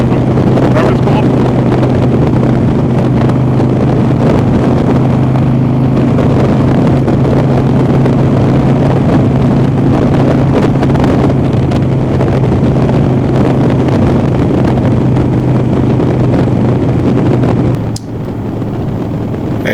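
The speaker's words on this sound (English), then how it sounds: "It's almost like the windshield is making the wind hit my helmet. What do they call it? They call it buffeting" Wind buffeting a motorcyclist's helmet behind the windshield at riding speed: a loud, steady rushing roar with a low engine drone beneath it, lasting the whole clip and cutting off briefly near the end.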